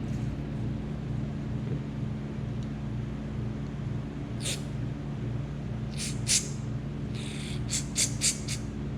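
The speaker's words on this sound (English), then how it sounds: "So we're just gonna blow through it with the carburetor cleaner and see if that makes anything better." Carburetor cleaner sprays through a carburetor in short hissing bursts, one alone and then several quick blasts in a row, over a steady low hum.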